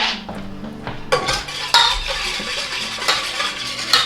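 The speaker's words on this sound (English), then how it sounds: "I look for something to whisk." Metal whisk clattering against a bowl as ingredients are mixed, with irregular clinks and scrapes close by, punctuated by a few sharper knocks.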